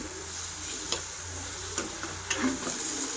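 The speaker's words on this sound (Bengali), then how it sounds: "ভালো করে একটু নেড়ে চেড়ে ভেজে নেব মশলাটা" Vegetable masala with chilli powder frying in a pan makes a soft, even sizzle, with a few light spoon taps and scrapes as it is stirred, fairly quiet and without voices.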